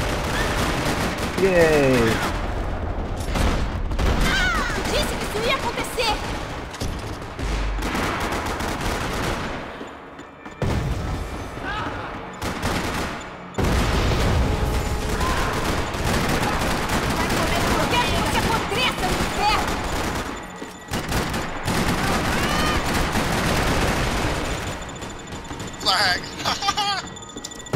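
Dense, sustained gunfire from a Rockstar Games gang war match, loud and near with a brief lull near the middle, while a person talks and cheers over it.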